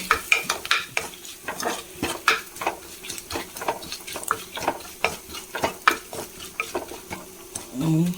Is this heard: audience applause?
no